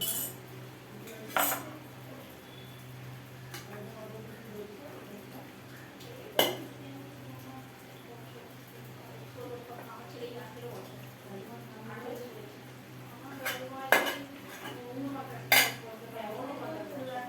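Rice is mixed by hand on a metal plate, with sparse clinks and scrapes of metal at irregular intervals over a low steady hum, a few sharper knocks standing out, and quiet speech in between.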